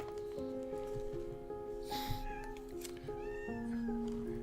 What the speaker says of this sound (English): Can you guys hear my cat meowing?